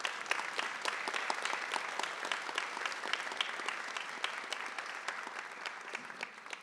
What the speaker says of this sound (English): Everybody on stage, a round of applause, please